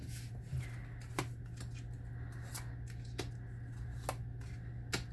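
Tarot-style cards are shuffled and pulled for a reading, giving soft riffling and sharp snapping flicks at irregular intervals over a quiet room hum, close and fairly faint.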